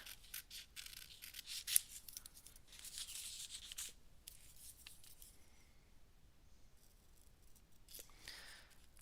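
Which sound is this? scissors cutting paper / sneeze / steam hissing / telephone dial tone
scissors cutting paper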